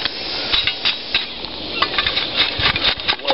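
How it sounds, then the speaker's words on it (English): King ranch chicken cooking in a coffee can dutch oven outdoors, a steady broadband sizzle with scattered clinks and knocks of metal on metal, fairly close and continuous, with no talking. "Hey, it's sizzling."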